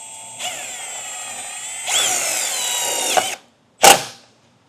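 A power drill drives a self-tapping screw into a 2022 Chevrolet Equinox body in two close, loud whirring runs that climb in pitch, then stops, followed by a short sharp burst.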